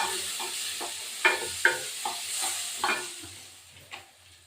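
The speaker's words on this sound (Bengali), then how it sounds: "এবার এই মোটাটা এখানে একটু ভাজা ভাজা করতে দিয়ে দেবো" Potatoes and onion sizzle steadily in a pan with turmeric while a spatula scrapes and stirs in irregular clinks and scuffs, close and fairly quiet with no voices.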